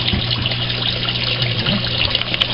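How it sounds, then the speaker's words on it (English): Water from a small pump circulating in a home aquaculture fish tank, splashing and churning the surface in a steady, close, continuous trickle with no talk. "I have a little pump inside here. All it's doing is just circulating water and hitting and disturbing the surface."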